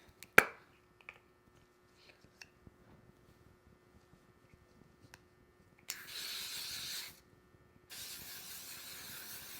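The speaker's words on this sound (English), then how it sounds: "we're gonna take the L'Oreal Infallible" L'Oreal Infallible setting spray misted close up in two steady hissing bursts, the first about a second long and the second longer, after a sharp click near the start and some quiet handling.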